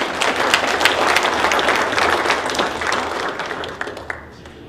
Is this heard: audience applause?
yes